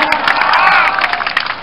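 A large street-protest crowd cheers and claps for the police and media at a rally of military, civil servants, teachers, labourers, police and firefighters, loud shouts and whoops over scattered clapping, close and energetic.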